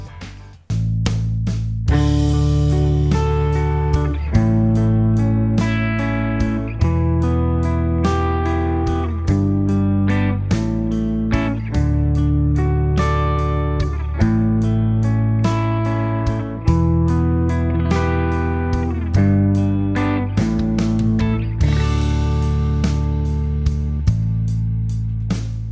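Guitar strums a chord progression in barre chords with no open strings, steady rhythmic strokes changing every couple of seconds, close and full for the whole stretch with no talk.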